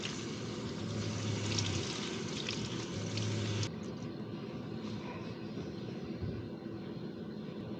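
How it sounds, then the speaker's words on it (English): Tap water runs steadily into a small sink in a camper van while someone rinses their head. The rushing flow is broad and constant, then drops slightly in level partway through. "it's time to finish it off with a little head shower in the sink."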